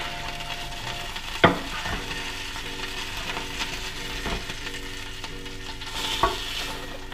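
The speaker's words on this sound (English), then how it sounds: "When you've got all this out, throw in the bacon." Bacon fries in an oiled pan, a steady close sizzle with a few sharp clacks of tongs moving the strips and a brief louder hiss near the end.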